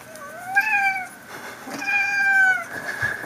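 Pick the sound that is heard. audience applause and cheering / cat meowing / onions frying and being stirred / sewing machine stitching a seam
cat meowing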